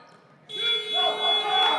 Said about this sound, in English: You could hear the buzzer going off.